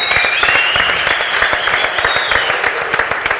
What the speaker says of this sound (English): Can we give a round of applause to our celebrant for the night?